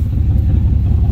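A 1980 Trans Am Turbo engine idles with a low, steady rumble, close and loud, its exhaust broken off just behind the muffler.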